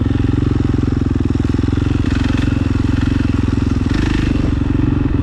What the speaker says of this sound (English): it's been a while since I've been on the bike